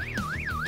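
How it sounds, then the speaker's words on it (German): An alarm wails in a rising and falling electronic tone, sweeping up and down twice in quick cycles, loud and close with nothing else over it. "ein Alarm?"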